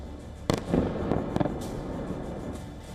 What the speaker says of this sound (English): In the Golosivsky district, 4 Russian missiles slammed into targets in less than a minute.